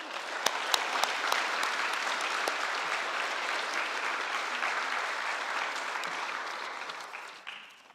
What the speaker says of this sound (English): So please give another round of applause for all our students.